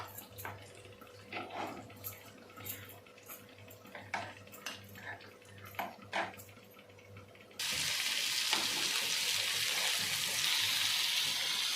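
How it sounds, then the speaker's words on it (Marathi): Mullet fish frying in a pan: scattered clinks and scrapes of utensils against the pan as the fish is turned, then a loud, steady sizzle of hot oil takes over. "आपण जी बोईमच्छी पहिला टाकली होती फ्राय करण्यासाठी तर ती एकदा आपण पालथून घेऊया"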